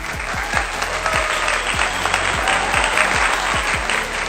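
Dense, loud applause from a crowd at Ryan Reynolds' Hollywood Walk of Fame ceremony, many hands clapping together in a sustained wash with sharp individual claps popping through, a voice faintly beneath.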